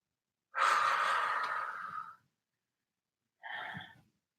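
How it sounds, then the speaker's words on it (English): During a workout, a person takes a long audible exhale of breath followed after a pause by a shorter breath, close and soft, with no talking. "So I'm breathing in through my nose, out through my mouth."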